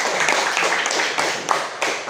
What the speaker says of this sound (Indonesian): Kita beri tepuk tangan untuk perwakilan dari kelompok 1